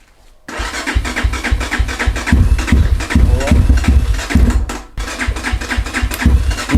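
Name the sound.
Rottor motorcycle engine starting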